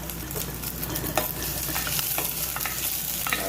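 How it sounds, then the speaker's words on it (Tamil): Chopped onion added to hot oil with a single clove, sizzling and frying in a pan on low heat while a spoon stirs and scrapes in short repeated strokes, close and steady. "இப்போ ஆனியனை போடுறேன்."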